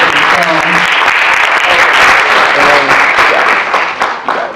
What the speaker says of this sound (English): can we give another round of applause for this film?